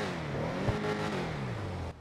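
The engine of a Karin Previon car in GTA 5 Online revs loudly and steadily, its pitch climbing and then sliding down before cutting off abruptly at the end. No one speaks over it.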